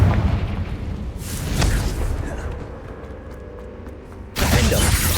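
A Confringo fire spell blasts in Hogwarts Legacy, heard as two booming bursts that open and close the stretch, loud and rumbling, with a quieter low roar lingering between them.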